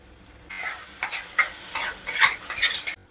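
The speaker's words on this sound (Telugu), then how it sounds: "ఇప్పుడు మీడియం ఫ్లేమ్లో పెట్టుకొని 10 నుంచి 15 నిమిషాల పాటు ముద్దను వేపుకుందాం." Masala paste fries on a medium flame in a pan for a meal maker masala curry, with a steady sizzle broken by several scraping spoon stirs, the last near the end louder than the rest.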